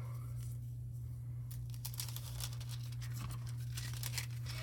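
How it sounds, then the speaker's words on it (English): A piece of crafting foil is cut by hand, giving soft crinkling and tearing rustles over a steady low hum, close and faint. "let me cut another piece of that foil"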